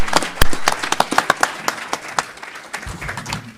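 Scattered clapping from a symposium audience for a water-policy panel, a run of sharp individual claps that thins out over a few seconds, fairly close and not very dense.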